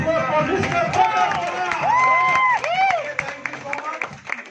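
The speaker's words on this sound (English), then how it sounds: "Let's give a huge round of applause for Mr. Robert." An audience at a meeting in a Kokrajhar hotel gives a round of applause, dense clapping and crowd noise mixed with voices and a sung or drawn-out tone, fading toward the end.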